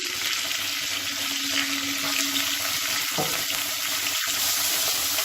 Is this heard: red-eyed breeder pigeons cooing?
no